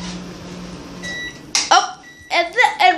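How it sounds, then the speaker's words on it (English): A microwave oven gives a few short, high electronic beeps as food is taken out, set against a low hum and followed by people speaking nearby. "while I'm getting my food out of my microwave"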